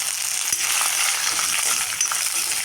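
Green chillies and curry leaves frying in oil in a pan, a steady close hiss and crackle with a few small pops, no voices.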